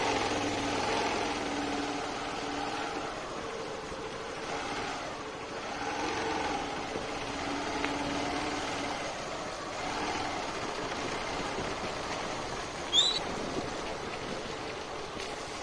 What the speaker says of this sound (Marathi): गाडीचा आवाज एवढा आहे की समजून येत नाही